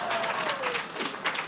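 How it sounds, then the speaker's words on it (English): Audience applause at a university commencement ceremony, a steady wash of clapping from a crowd that holds at an even level for the whole brief moment, with faint voices mixed in. "okay, you can clap for me"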